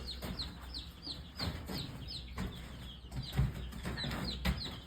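Chickens on a farm cluck and murmur close by in a steady stream of short calls, with occasional louder squawks over a faint outdoor background.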